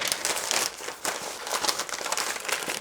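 Butcher paper or foil is folded around a smoked brisket flat, making close crinkling and rustling with irregular crisp bursts as the wrap is handled and turned over.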